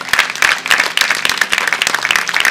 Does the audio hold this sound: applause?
yes